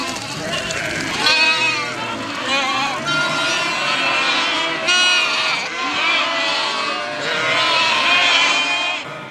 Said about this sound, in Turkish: koyunlar dışarıda, kuzular ise ağlarda melemeye başlıyor